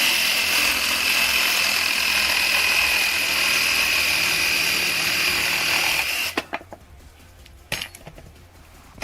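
A Ryobi 18V ONE+ cordless jigsaw makes a 45-degree angle cut with a steady, loud buzzing whine for about six seconds, then stops, followed by a few clattering handling noises.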